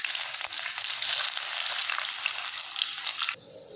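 Chopped onion dropped into hot oil with two bay leaves, a loud crackling sizzle that spits steadily up close, then drops abruptly to a quieter hiss near the end; no talking.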